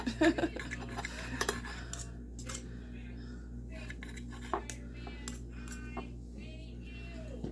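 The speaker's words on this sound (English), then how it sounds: "Okay, I just have to grab a knife and we'll cut a piece." A knife cuts a piece of peanut butter and jam waffle on a plate, giving a few light scraping clicks and taps over faint room hum, with soft talk in the background.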